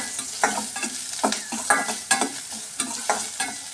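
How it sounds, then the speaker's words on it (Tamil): Two large chopped onions sautéing in a pan for banana stem kootu, with repeated close stirring scrapes and clacks of a spoon over a steady soft sizzle, no voices. "கட் பண்ணி வச்ச ரெண்டு பெரிய வெங்காயத்தை சேர்த்து நல்லா வதக்கி விட்டுருங்க"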